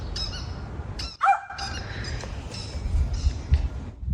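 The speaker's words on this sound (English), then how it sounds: "This crow stole this dog's squeaky toy and was taunting him with it" A crow squawks loudly while taunting a dog with a stolen squeaky toy, giving several harsh close calls in bursts, with a thin squeak-like tone among them over low outdoor background noise.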